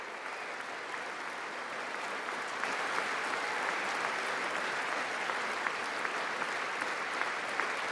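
An audience applauds, a steady, fairly faint wash of clapping that swells a little partway through and carries on evenly to the end.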